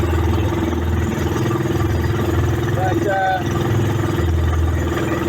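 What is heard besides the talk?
Sumo SR150 racing engine running on a trimaran at sea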